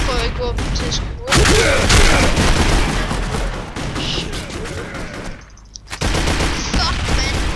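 Rifle gunfire in the video game District 187, rapid bursts of shots and booms that fill most of the stretch, with a short lull near the end before firing resumes, loud and close.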